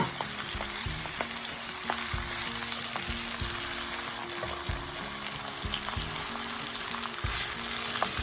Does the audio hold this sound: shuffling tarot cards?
no